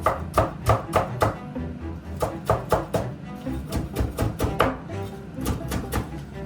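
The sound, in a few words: chopping green onion with a knife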